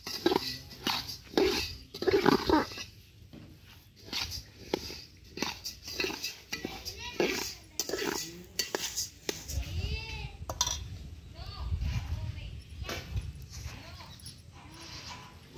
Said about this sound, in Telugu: చూడండి, లైట్గా వేపుకోవాలండి. బాగానే దోరగా వచ్చేలాగా వేపుకోవాలి ధనియాలు వచ్చి.